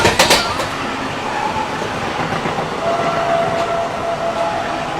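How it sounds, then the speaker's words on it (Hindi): Kolkata suburban local train passing close by, loud rail rumble and clatter with a sharp burst at the start, then a steady roar and a thin whistle-like tone later on. "ये है कोलकाता का सबअर्बन रेलवे।"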